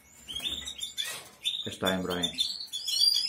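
Small birds chirp and tweet continuously in an aviary during breeding season, bright repeated calls close by, heard under a person speaking.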